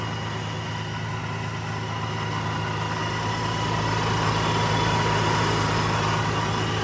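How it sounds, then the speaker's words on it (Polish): A Nissan 350Z engine fitted with a Vortech supercharger idles steadily and close by. The drone is constant and loud, with no talk over it. "Tak wygląda całość poskładana i odpalona."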